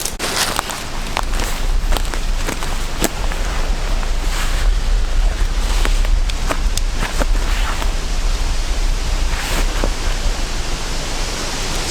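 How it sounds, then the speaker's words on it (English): Strong, cold wind blows outdoors at a bush camp in Australia, a loud continuous roar with gusty buffeting and occasional crackles close to the microphone. "It's gotten very cold and windy."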